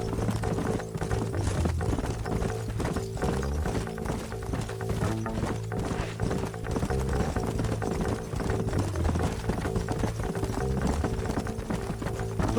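Horse hooves clip-clop steadily in the Red Dead Redemption video game, a continuous rhythmic trotting under a dense bed of in-game music and ambience, with no speech.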